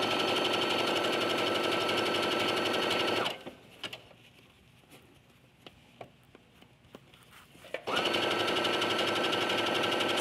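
A sewing machine stitching knit fabric with a stretch needle, its steady loud whirring hum running close by, pausing for a few seconds of quiet clicks and handling before starting up again.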